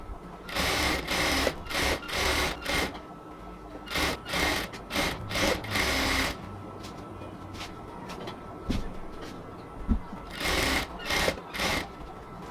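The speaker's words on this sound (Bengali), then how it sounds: "ইলাস্টিকটা ঠিক যতটুকু আছে তার বাহিরে কাপড় একটু বাড়তি রেখে ইলাস্টিকের বাহিরে এবার সেলাইটা দিব।" A sewing machine stitches cotton fabric for ladies' pants just outside an elastic band, running in repeated close bursts of rapid mechanical whirring separated by short pauses, with no talking.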